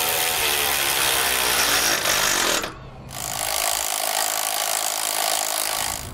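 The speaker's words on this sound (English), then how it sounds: "Now we'll take a 5/8 inch socket with an 11/16 wrench" Socket and wrench tightening nuts on a Dutton-Lainson boat trailer jack with a 5/8 inch socket and 11/16 wrench, giving steady, loud, broadband grinding and scraping close by, with a brief pause partway through before it resumes.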